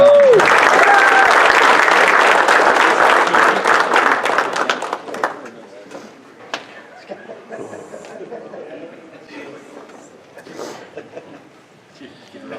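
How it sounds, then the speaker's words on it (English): Loud applause from an indoor motorsports banquet crowd for several seconds, fading away into scattered claps, murmuring chatter and light laughter. "Big round of applause for Brian."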